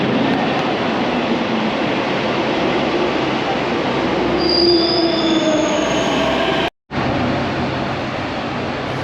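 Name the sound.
Delhi metro train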